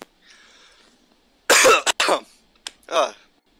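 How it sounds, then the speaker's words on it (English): A few harsh coughs from a man with a lingering cold burst out loudly and close, one heavy pair followed by a couple of shorter hacks, with quiet breathing before them. "Excuse my cough, I'm still not over this cold I happened to catch a few weeks ago."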